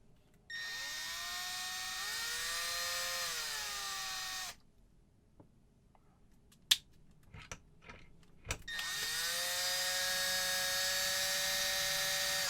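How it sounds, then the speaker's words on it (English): A powered driver spins a screw in, pauses, then backs it out, two sustained whirring runs with pitch rising under load, separated by quiet clicks and handling knocks. "We're actually just going to insert the screw, remove it 10 times."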